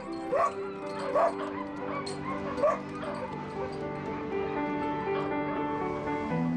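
Several dogs bark and yip in short bursts, mixed with drawn-out whimpers and whines, fairly close and moderately loud against a steady background hum.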